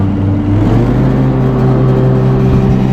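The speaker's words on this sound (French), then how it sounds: "je mets les gaz" Cub Cadet XZ8 Ultima riding lawn mower revving up, a loud steady engine drone with a rising pitch as the throttle opens, close and alone.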